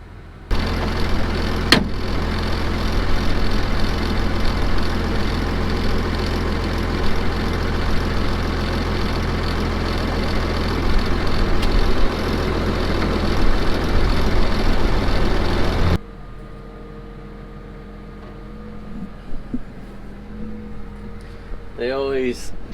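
A tractor engine idles with a steady low rumble for most of the stretch, then cuts off abruptly, leaving quieter ambient sounds and a few faint chirps.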